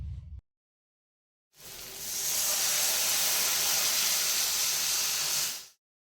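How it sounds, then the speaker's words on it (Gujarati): Gujarati kadhi with green onion and jaggery in a pan gives a loud, steady hiss that lasts about four seconds after a brief quiet gap, then stops abruptly. "હવે મિક્સ કરી કઢીને સારી રીતે ઉકાળી લઈએ"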